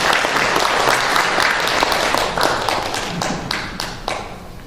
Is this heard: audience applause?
yes